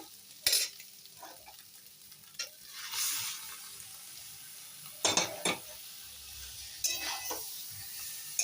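Boiled dal tipped into a curry and stirred in a pan, heard as a few sharp, intermittent clinks and scrapes of a spoon against metal with quiet gaps between, close by and with no talking.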